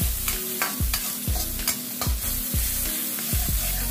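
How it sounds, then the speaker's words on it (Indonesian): A generous amount of shallots sautéing in a thin wok, stirred in a quick, regular rhythm: each stroke scrapes sharply over a continuous close sizzle. "Pertama kali saya akan tumis terlebih dahulu adalah bawang merah ya teman-teman"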